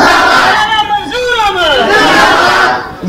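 At an outdoor religious gathering, a large crowd shouts slogans in unison, a loud swelling chorus of voices rising and falling together.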